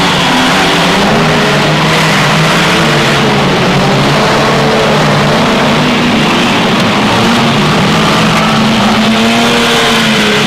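Stock car racing cars in a Formula 1 stockcar event roar around the raceway, a continuous loud engine drone with shifting revving tones throughout and no voices.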